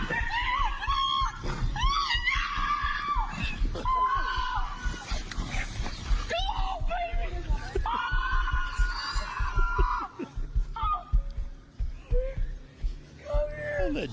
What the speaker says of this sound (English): All that damn screaming.